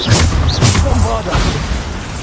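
A Bombarda explosion spell cast in Hogwarts Legacy, a short muffled boom followed by rumbling debris and magical shimmer, with game noise and a voice mixed in.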